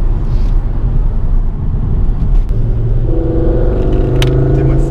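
A Ford Focus RS with a turbo rumbles steadily, then its engine note climbs and strengthens in rising harmonic tones as it accelerates, loud and close throughout.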